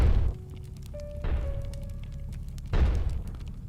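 Weapon fire in the dungeon crawler game Echoes of Magnus, a game jam entry: three deep, booming shots spaced over a few seconds, each a loud thud with a decaying tail, with thin sustained tones hanging between them and no talk.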